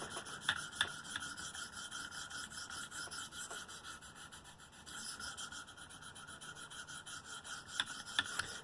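A M4 Manix knife blade is drawn across a 300 grit stone on a KME sharpener, giving a steady, close dry rasping with light rhythmic strokes and a few sharper scrapes, with no talking.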